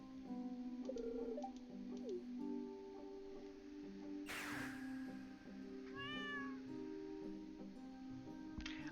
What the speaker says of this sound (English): I did remember something is meowing in the water